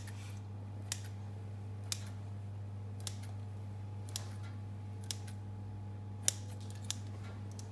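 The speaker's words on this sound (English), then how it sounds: "I find scissors are best when you actually don't have any sharp knives in the house" Kitchen scissors snip across the top of bread dough to score it: faint, crisp cuts at a roughly even one-second pace over a low steady hum.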